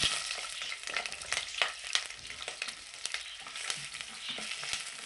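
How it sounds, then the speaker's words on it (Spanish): Onion frying in a pan, a bright continuous sizzle with occasional scraping stirs, close and fairly quiet, no voices. "Ahora sí, vamos a poner la cebolla."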